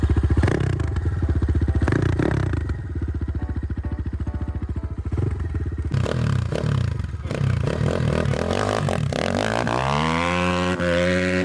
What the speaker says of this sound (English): Sounds like a real bike.